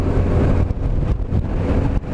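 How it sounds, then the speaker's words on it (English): Strong wind buffets the microphone in a continuous loud roar, surging and easing in gusts. "I don't mind the wind, it's the gusts."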